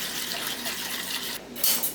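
Water pours into a cooking pot for simmering lentils in a home kitchen, a steady close rush of filling liquid with a brief dip and splash near the end.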